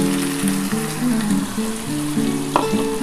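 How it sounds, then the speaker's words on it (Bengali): Ground spice water poured into a hot pan while cooking a Bengali double-yolk steamed egg dish with onion, garlic and ginger, a loud close sizzle with bubbling and a sharp clink near the end, no talk. "এই জলটা আমি দিয়ে দেবো"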